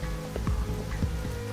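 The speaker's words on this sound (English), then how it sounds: "the rain just gets to be a bit too much" Heavy rain pours down in the bush, a dense, steady patter of drops striking nearby surfaces without pause.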